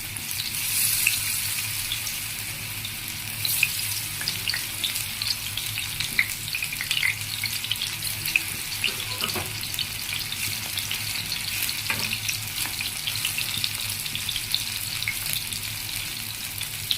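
Beef chops frying in hot oil, a dense, steady sizzle and crackle that holds evenly throughout with small pops and spits, close and fairly loud, with no voices.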